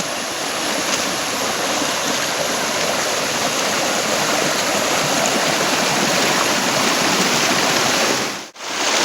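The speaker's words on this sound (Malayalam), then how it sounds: "വെള്ളം ഇതുപോലെ ഒലിച്ച് വരണ നല്ലൊരു ഒഴുക്കുള്ള സ്ഥലത്തേക്ക് എത്തി" A forest stream at Adakode Chola waterfalls rushes over rocks in a dense, steady roar, loud and close, continuous for the whole stretch with a brief dip near the end.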